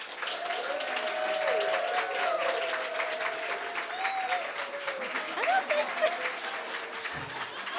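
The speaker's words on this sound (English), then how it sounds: "if you believe that David Serchuk won, please give him some applause" An audience at a live storytelling show claps steadily in sustained, even applause for several seconds, with some cheering and voices mixed in.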